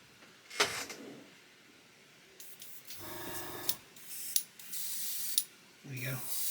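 An airbrush sprays varnish onto a model in several short bursts of airy hiss, some sputtering as if partly blocked, with small clicks and handling noises between bursts.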